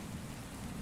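Rain falls steadily in a soft, dense hiss, with a low rumble of distant thunder underneath, a constant and quiet ambient bed with no talk.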